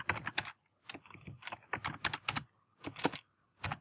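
Fast clattering keystrokes on a computer keyboard, close and crisp, coming in irregular bursts with short pauses between them.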